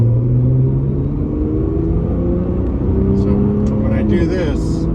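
A Nissan GT-R R35 with its GR6 dual-clutch transmission drones steadily from inside the cabin, engine pitch stepping up and down with gear changes, as a person talks throughout.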